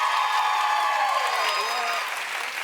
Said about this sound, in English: Clap if you think it ought to be Mark